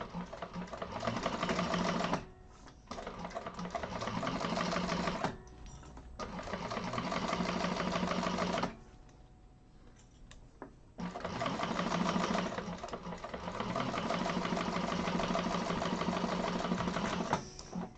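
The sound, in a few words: sewing machine chain stitching a handbag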